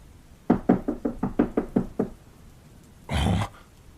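A run of eight firm knocks on a door comes in a quick, even rhythm, close and loud, followed after a pause by a longer, heavier rumbling thud.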